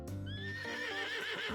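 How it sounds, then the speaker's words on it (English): Horse from the game Love and Deepspace, a spectral revenant steed in silver armor, gives a loud, close, drawn-out whinny with a wavering pitch that slides downward, while a low rumble of hooves runs beneath it throughout. "A horse revenant clad in silver armor emerges from the mist."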